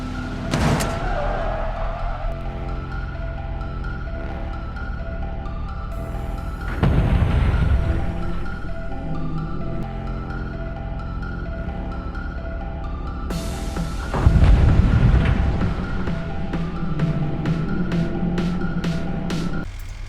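Replay of a Gavril H-Series Vanster van in a BeamNG.drive oblique small-overlap crash test: a steady engine hum and low rumble, broken by two loud booming impacts with clattering debris, the second followed by a run of sharp ticks.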